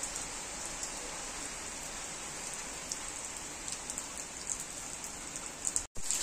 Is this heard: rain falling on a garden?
yes